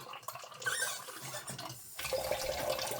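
Water from a cup pours into a crock pot, a faint, uneven splashing and trickling that changes tone partway through and lasts about three seconds.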